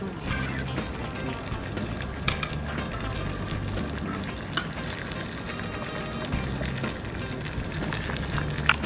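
A pot of water with a little oil added comes to a boil for steaming an egg over water, giving a steady, close bubbling hiss with faint clinks and no talk throughout.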